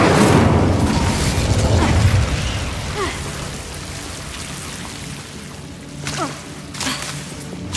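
An Incendio fire spell effect: a loud opening whoosh and roar that settles into crackling, rain-like spatter with a few later pops and bursts.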